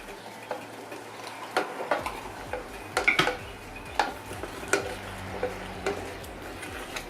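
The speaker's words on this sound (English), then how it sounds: "it's important to keep stirring it and flipping it around" A spoon stirs and scrapes through a thickening keto cheese sauce of butter and fresh cream in a pan, with repeated light clinks and taps against the metal over a soft, steady sizzle.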